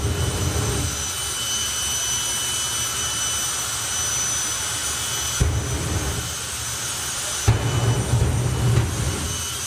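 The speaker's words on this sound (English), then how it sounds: "side by side jet dragsters coming your way" Jet dragsters at a drag racing festival roar in a constant turbine howl, with sudden louder bursts of afterburner thunder breaking in twice near the end.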